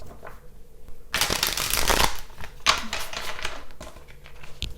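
A deck of tarot cards is shuffled up close: rapid riffling bursts of crisp flicking and slapping, the longest lasting about a second, followed by shorter shuffles and light taps, with no voices.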